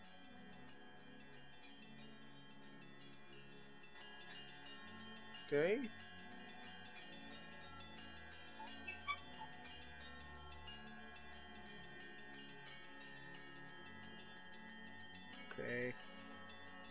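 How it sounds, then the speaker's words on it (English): Bells ring in the horror video game Gray Dawn, a faint, sustained, layered tolling that hangs in the background for the whole stretch, with two brief louder knocks and a short spoken word. "I'm hearing bells."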